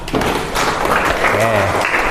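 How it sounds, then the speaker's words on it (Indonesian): A class of students clapping for a classmate in a math lesson, dense continuous applause heard close, with voices calling out over it. "Tepuk tangan buat Aulia."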